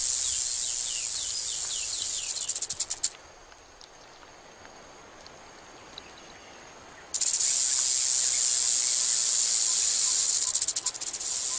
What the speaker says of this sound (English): Rattlesnakes sound a more blatant alarm when people get too close.